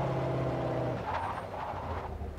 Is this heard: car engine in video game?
yes